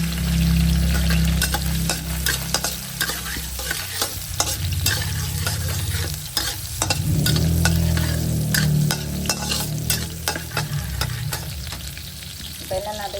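Garlic sautéing in a pan for chicken adobo, a loud continuous sizzle with rapid clattering stirs and scrapes throughout, close and busy.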